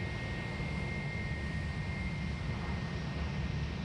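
Qantas airliners taxi at Sydney Airport, their jet engines a steady distant rumble and hiss with a faint high whine, continuous and unbroken with no talk.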